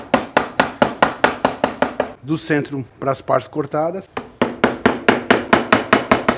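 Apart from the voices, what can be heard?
chisel struck with hammer removing wood corners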